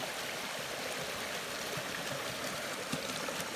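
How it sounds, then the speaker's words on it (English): Small waterfall cascade on the Appalachian Trail, a steady broadband rush of falling water with no pauses, moderately close and fairly quiet throughout. "Beautiful cascade."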